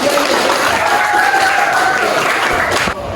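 Audience applause at a talk or sharing session, a loud, dense wash of clapping filling the whole stretch, with a faint tonal hum running underneath, dropping off sharply near the end.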